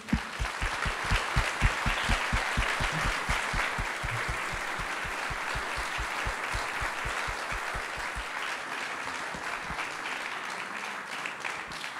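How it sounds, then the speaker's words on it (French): An audience applauds Hubert Reeves after a live debate, a long run of steady, dense clapping that starts strong and gradually thins out toward the end, with no speech over it. "Je pense qu'on peut l'applaudir."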